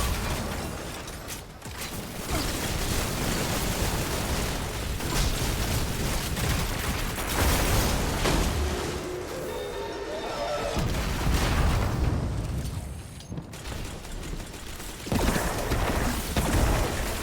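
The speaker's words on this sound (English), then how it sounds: "Shoot out missiles and blow everything up." Missiles launched by a weapon's hidden ability in Destiny 2 burst across a dense, loud stretch of game noise, with rattling mechanical clatter and layered blasts rolling on steadily for the whole span.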